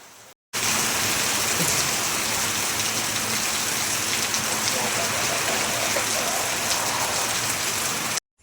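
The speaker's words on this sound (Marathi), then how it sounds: "या बघू शकता असा पाऊस चालू झालाय." Steady afternoon rain falls on a farm under cloudy skies, a dense, even hiss that holds without a break for most of the clip.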